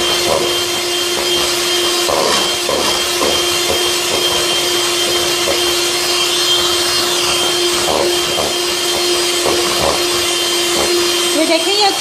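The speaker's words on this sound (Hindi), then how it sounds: "क्योंकि जब हम इसमें ये बीटर चलाएंगे तो ये फिर वरना उड़ेगा बहुत" Electric hand beater whipping sugar for pistachio cupcake batter in a bowl, a loud, steady motorized whir with a constant hum and occasional scraping knocks against the bowl throughout.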